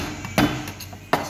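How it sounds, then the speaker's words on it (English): A bar muddler crushes ice for a drink, giving two sharp, close knocks of the tool on ice with faint clatter in between. "you can use muddler to make a crush ice"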